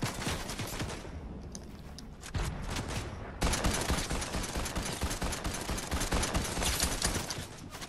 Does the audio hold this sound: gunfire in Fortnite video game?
yes